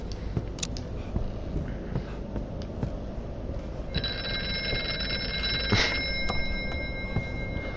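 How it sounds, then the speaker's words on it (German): A telephone rings in the video game Here They Lie, a bright electronic bell tone that sounds over a low droning background, growing clearer partway through and sustained to the end. "Das Telefon."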